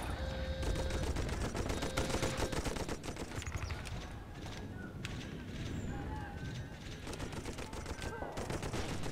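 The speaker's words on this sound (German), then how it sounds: "Maschinengewehr, Maschinengewehr, Maschinengewehr, Maschinengewehr" Machine guns rattle in the video game Toy Soldiers, with dense bursts of rapid fire and scattered shots overlapping continuously amid other battle noise, while a voice talks faintly over the action.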